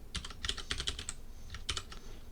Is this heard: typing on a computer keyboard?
yes